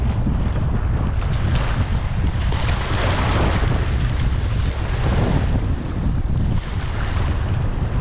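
Strong Amihan wind gusts buffet the microphone at sea aboard a boat, a loud continuous roar with waves and surf washing beneath, no one speaking.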